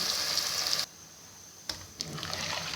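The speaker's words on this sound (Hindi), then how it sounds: "गर्म पानी शामिल करूँगी।" Hot water pours into a pan of mutton and cauliflower curry in a steady gushing stream, briefly stops, then resumes in a second pour, close and clear with no talking.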